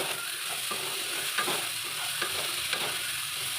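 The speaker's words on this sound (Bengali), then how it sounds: "দেখো আমি এইগুলো এবার একটুখানি নেড়ে চেড়ে নেব" Vegetables with salt and turmeric frying in a pan while being stirred, a steady close sizzle broken by a few scraping stirs, no talk.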